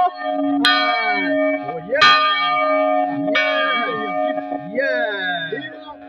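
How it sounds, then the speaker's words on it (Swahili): The first Seventh-day Adventist church bell in Tanzania rings out loud and close, with four clanging strikes about a second and a half apart, each leaving a long, shimmering hum that overlaps the next. "Amevuta pale, anakwenda kupiga kengele hilo."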